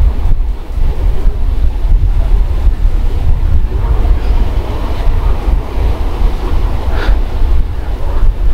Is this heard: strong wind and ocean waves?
yes